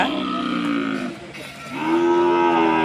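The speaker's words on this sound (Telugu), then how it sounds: "ఇదొక దూడ." A calf moos loudly and close by, two drawn-out calls separated by a short pause.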